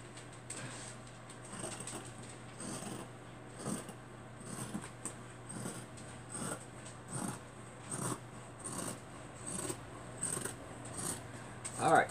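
A pair of poorly suited scissors cuts through fabric for a handmade accordion pocketbook, making soft, repeated snipping and rasping strokes at a steady rhythm, fairly faint against a low background hum.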